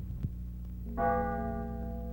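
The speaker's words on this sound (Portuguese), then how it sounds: "Ao som do sino do jantar," A single bell struck once at a fifteenth-century bishop's court to call everyone to dinner, ringing on with a steady hum of overtones after a soft thump, heard alone at moderate loudness.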